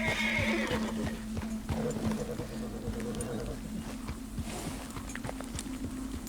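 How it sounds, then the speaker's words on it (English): A horse in the video game Red Dead Redemption 2 nickers and whinnies near the start, then hooves clip-clop in a steady walking rhythm over a low constant hum. "This is a flipping big horse."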